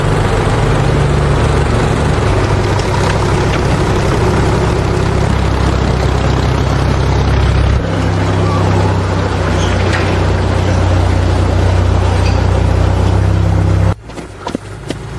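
A large full-size tractor's diesel engine runs loud and close with a steady low throbbing idle, its pitch shifting slightly midway before the sound cuts away abruptly near the end.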